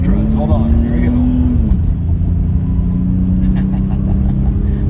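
A 1990 BMW 735iL revs and pulls away loudly from close by, its engine note climbing steadily then dropping at a shift and settling into a steady drone, with faint talk mixed in.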